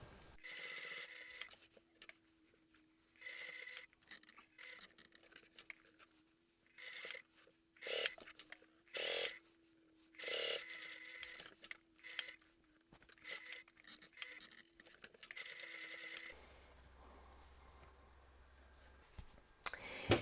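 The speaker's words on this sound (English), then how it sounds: "now I'm going to sew all around the opening about 1/8 of an inch from the edge" A sewing machine stitches around the opening of a bag in short, intermittent runs of rapid clicking whir, separated by pauses, fairly quiet and close, with no talking.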